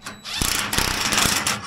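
A socket wrench with a very long socket ratchets on a bolt in the skid of a vintage Polaris snowmobile, a quick series of close mechanical clicks over a rough background.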